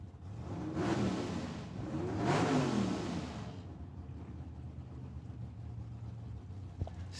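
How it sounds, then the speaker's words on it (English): Drag race cars roar down the strip at Tucson Dragway, engines swelling loudly in two overlapping passes, then fading into a sustained distant rumble. "This is going to be a drag race"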